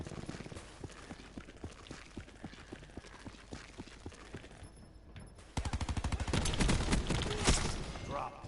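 Three-round burst gunfire from a rifle in Call of Duty: Black Ops 4, a rhythmic run of quick shots that grows louder and denser partway through, set against game noise with no voices.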